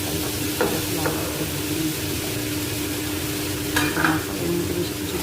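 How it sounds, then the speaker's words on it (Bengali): Bori, small sun-dried lentil dumplings, frying in a little oil in a pan, with a steady soft sizzle and a few brief stirring scrapes. No one speaks over it. "বড়িগুলো দেখতে পাচ্ছ অল্প তেল দিয়ে লাল লাল করে ভেজে নেব।"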